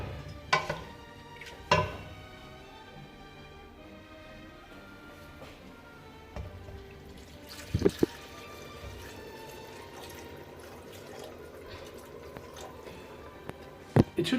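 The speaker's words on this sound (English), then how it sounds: "you put it back onto the fire and now you add water," Water poured into a pot of Hungarian goulash (pörkölt) set back on the fire, a steady low liquid wash running throughout with a few louder clanks and splashes near the start, around eight seconds and at the end.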